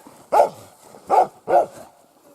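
A dog barks three times at close range, one sharp bark followed after a pause by two quick ones, loud against a quiet background on a backwoods hunting trip.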